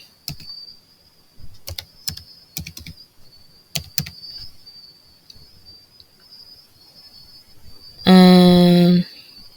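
Keys tapped on a computer keyboard in a short sparse run of separate clicks, entering a mobile money phone number for a payment, with a steady faint whine behind and a loud buzzing burst near the end.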